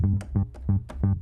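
A deep synthesized bass from the Trilian instrument, meant to imitate an electric bass, plays a short run of plucked notes, each with a quick attack and brief sustain, close and alone.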